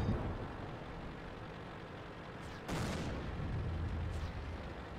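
A Chi Nu Kai tank cannon in a video game fires one heavy boom partway through, rising out of a steady, dense rumble of engine and battle noise, with no talking.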